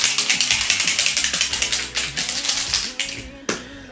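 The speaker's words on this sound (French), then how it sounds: "Je vais prendre mon petit aéromist que je vais bien secouer puisque donc il y a une petite bombe à l'intérieur" An aerosol foundation mist can is shaken hard, its mixing ball rattling in quick regular clicks, close and loud, with a few brief pauses and heavier knocks.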